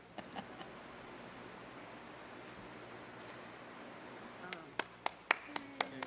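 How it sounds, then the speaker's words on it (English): A few slow, sparse golf claps at a school board of education meeting sound as a short run of distinct, moderately loud claps near the end, after a stretch of quiet room noise. "I'm giving you a little golf clap there, Tom."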